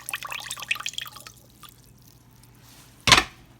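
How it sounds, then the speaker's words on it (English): Roast broth is poured from a pan into a big bowl in a short trickling spill, then a single louder splash or clunk near the end. "we're going to take this broth that's on it, pour it over in a big bowl."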